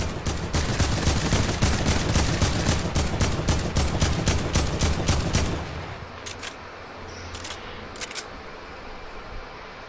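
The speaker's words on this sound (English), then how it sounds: "Fuck it, start shooting now." Rapid bursts of gunfire in a Fortnite squads match, loud and close for several seconds, then stopping and giving way to a few sharp, brief shots over quieter game ambience.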